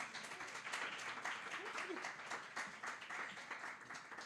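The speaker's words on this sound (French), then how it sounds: "On peut l'applaudir." A live audience at a talk event applauds with dense, steady clapping that fills the room at moderate loudness, with a few voices murmuring underneath.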